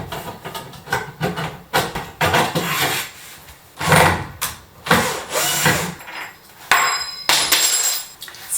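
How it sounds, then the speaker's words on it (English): Cordless drill unscrewing the hinges on a large wardrobe door during an upcycle makeover, heard as a series of short whirring bursts and knocks of wood and metal, close and fairly loud, with gaps between them and no talking. "I've got my trusty drill out and I'm going to now go around and unscrew"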